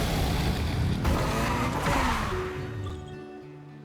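A video game car roars at full throttle, loud and close with a revving, rising engine note and tire screech, then fades out over the last second.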